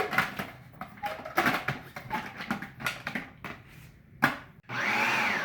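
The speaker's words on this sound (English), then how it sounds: "And I am going to puree this to start" A blender purees garlic, red onion and cucumbers for gazpacho, with choppy bursts of whirring and clattering chunks, then a smoother steady whine as the motor runs at the end.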